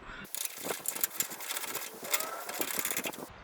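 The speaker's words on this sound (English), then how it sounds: "now once we have the bolts in, we tighten them up" Bolts being tightened on a Cord King firewood processor while it is prepared for transport, giving a steady, close, buzzing mechanical rattle with quick fluttering pulses that runs for about three seconds.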